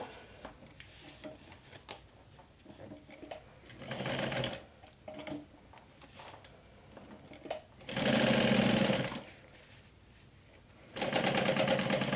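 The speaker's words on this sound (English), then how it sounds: "So I'll place the pocket lining right sides together along the top and stitch" A sewing machine stitching pocket lining for a backpack-turned-handbag, running in several bursts of steady rapid whirring and ticking, close and loud, with quieter handling noises between the runs.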